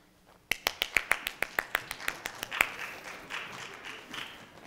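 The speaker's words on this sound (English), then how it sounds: "Let's all applaud when he gets here." In a church worship service, a series of a dozen crisp, evenly spaced single claps rings out near and alone, then gives way to softer, more diffuse clapping from the congregation.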